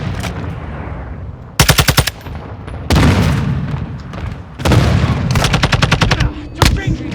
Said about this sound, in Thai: นี่เรายิงใครไม่ตายเลยเนี่ย